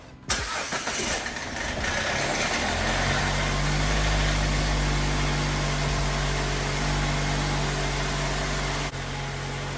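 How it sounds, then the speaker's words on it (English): A Jeep engine cranks and fires just after an oil leak repair, then settles into a steady, loud idle with a constant low hum that runs to the end. "Let's go ahead and start her up."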